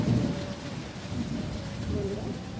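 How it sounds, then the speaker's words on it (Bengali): Heavy rain pours steadily during a long downpour, with deep thunder rumbling low beneath the dense hiss of falling water throughout. "এদিকে খুব বৃষ্টি হচ্ছে বন্ধুরা, এখনও বৃষ্টি থামেনি"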